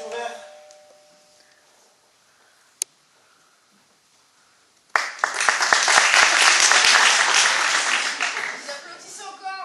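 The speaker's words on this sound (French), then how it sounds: "Vous applaudissez encore." A theatre audience at a live stage comedy bursts into loud, sustained applause that starts abruptly after a quiet stretch of faint voices and a single sharp knock, then holds steady and slowly fades.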